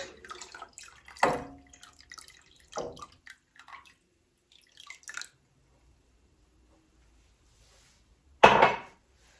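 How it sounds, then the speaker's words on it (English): Vinegar poured into milk heated to 120 degrees for two-ingredient mozzarella, heard as a few brief splashing, clattering bursts with quiet gaps between them and a sharper burst near the end; no one talks. "Now we're just going to pour our vinegar through the milk."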